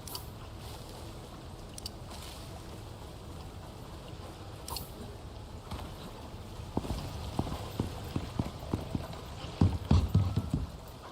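Horse hooves clip-clop in a video game, a steady, soft walking rhythm that grows louder and more distinct toward the end, with no talk over it.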